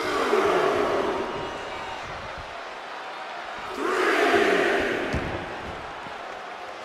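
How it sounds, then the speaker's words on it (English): A wrestling arena crowd in WWE 2K24 roars and cheers, the noise swelling loudly twice in broad waves, then easing between them. "really feeding off this crowd."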